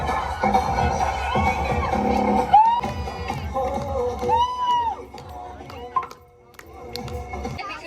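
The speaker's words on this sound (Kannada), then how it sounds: "ಎಲ್ಲರೂ ಜೋರಾದ ಚಪ್ಪಾಳೆ ಮಾಡ್ಲಿ ಕೃತಿಕಂಗೆ" A crowd of guests cheering, whooping and clapping at a child's second birthday party with an animal theme, loud and close with excited voices and children shouting over music-like tones, fading toward the end.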